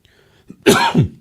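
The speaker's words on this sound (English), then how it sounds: "Now I'm doing this cough." A single close, harsh cough breaks out of near silence, a quick double burst.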